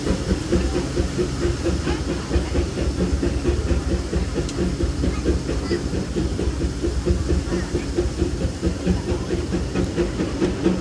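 The Disneyland Railroad steam train runs steadily, a continuous rumbling roll with rhythmic clickety-clack and hiss heard from aboard, with no talking.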